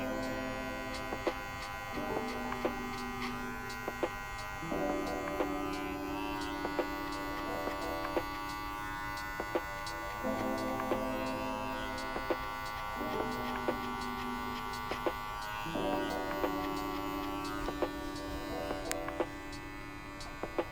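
Electric barber clippers buzz steadily while cutting a low fade, the motor tone shifting in pitch between passes, close and continuous with no talk over it.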